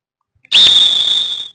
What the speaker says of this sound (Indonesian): Ikuti aba-aba dari peluit saya.